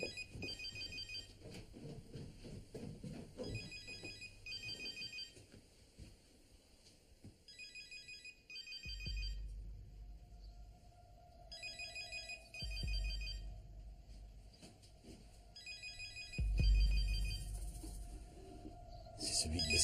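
A mobile phone ringing downstairs, its electronic ringtone repeating in regular bursts, faint and distant, with soft footsteps and low rumbling between the rings.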